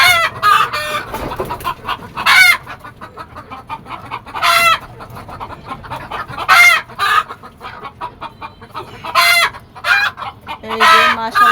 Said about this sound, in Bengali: মুরগি ভয় পেয়ে দাপাদাপি করতেছে